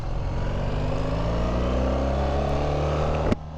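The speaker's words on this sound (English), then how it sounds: "A nice low rumble of this big 1300cc Boxster engine." A 2025 BMW R 1300 GS Adventure's big 1300cc boxer engine idles with a deep, steady low rumble up close, then a brief sharp click near the end.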